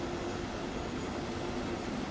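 A train runs on the Main Spessart Bahn line in the Train Sim World video game, with a steady, dense rumble of wheels and motion and no distinct clacks, heard alone without voices.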